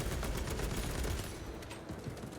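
Sustained, dense fire from the Occulus bolt carbine in Space Marine 2, wielded by a Vanguard; a dense, continuous barrage with no clear gaps between shots.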